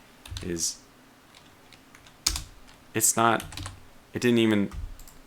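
Scattered bursts of typing on a computer keyboard, with key clicks coming in short clusters between stretches of a man's speech, close and moderately loud.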